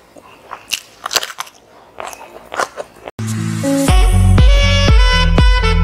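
Crunchy biting and chewing of rice eaten with Medan anchovy chili sambal, a few close, irregular crunches, followed by loud music with a steady beat taking over the second half.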